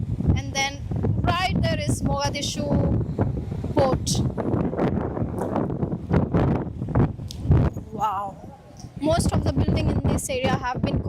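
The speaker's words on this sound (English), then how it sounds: "Wind is too strong" Strong wind blows by the ocean and buffets the microphone with a rough, rumbling roar beneath someone talking almost continuously, with gusts surging between his phrases.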